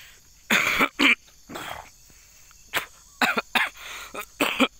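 Several sharp coughing bursts, close by, some in quick pairs, with short quiet gaps between them and a throat-clearing sound in between.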